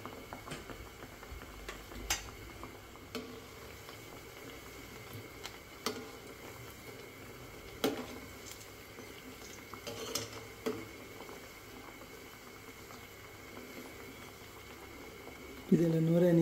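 Banana flower vadas deep frying in oil over a low flame, a quiet, steady bubbling hiss with occasional faint ticks and clicks throughout.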